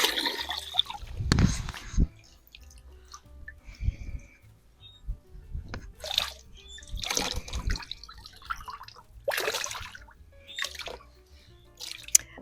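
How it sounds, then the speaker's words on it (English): Water splashes and drips as a wreath piece is dipped and moistened in a bucket, several short bursts of wet sloshing with trickling between them, close and fairly loud. "I'm going to moisten this piece here. And I just filled a bucket with some water right over here."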